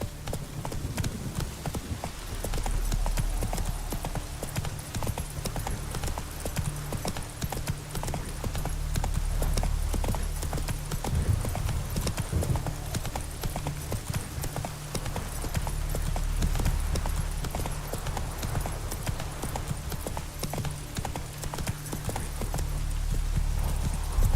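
Horse hooves clip-clop steadily and continuously in The Witcher 3, a loud, close rhythmic trot that holds for the whole stretch with no talk over it.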